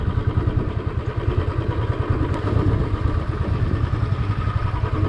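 A Royal Enfield Standard 350 Bullet thumps along through mud on an off-road ride, its single-cylinder engine pulsing in a steady, loud beat with clatter and bumps from the rough ground.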